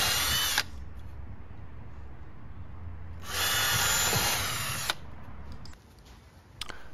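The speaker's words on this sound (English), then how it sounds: "then I come back with a larger size drill bit and make those a little bit bigger" A power drill enlarging holes with a larger bit whirs loudly in two sustained bursts, pausing between them, with a quieter background hum in the gaps.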